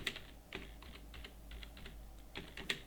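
Soft typing on a computer keyboard while a company name is entered in accounting software, irregular clusters of light clicks over a faint low hum, with no voices.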